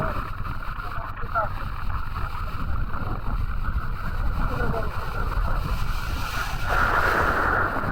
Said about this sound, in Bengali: ওই যে পিছনে যে বড় ঢেউটা